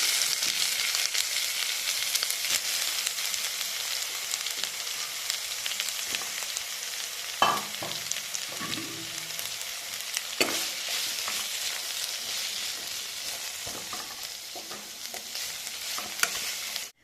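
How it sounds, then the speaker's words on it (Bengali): Boiled capsicum, carrot and beans fry in a pan with a steady, close sizzle throughout, broken by a few soft scrapes and clatters of stirring. "ক্যাপসিকাম, গাজর, বিনস এগুলো বয়েল করে রেখেছিলাম। এটা এখন ফ্রাই করে নেব 5 মিনিট।"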